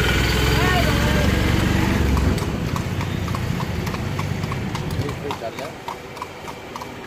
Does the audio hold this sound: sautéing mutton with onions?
no